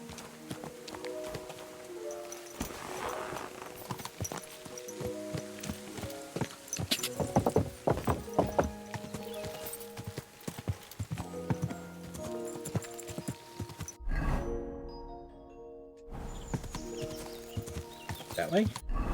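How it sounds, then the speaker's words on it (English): Horse hooves clip-clop steadily in a medieval sword-and-dice video game, a regular walking rhythm running under layered game music and occasional voices, with a short quieter break near the end. "Come on, horsey."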